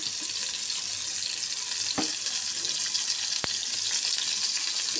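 Tomato sizzling steadily in hot oil in a pan while cooking an aair fish curry, a continuous high crackling hiss with a couple of brief stirring clicks and no talking.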